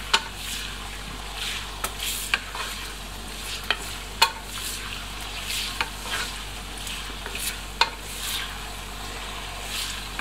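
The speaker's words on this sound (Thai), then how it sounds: "ใช้เวลาผัดน่าจะประมาณสักครึ่งชั่วโมงถึง40นาทีนะครับผัดไปเรื่อยๆใจเย็นๆ" Pork belly stir-frying in fish sauce in a pan makes a continuous close sizzle, broken by periodic sharp scrapes and clacks of a spatula stirring, steady and unhurried, with no talk.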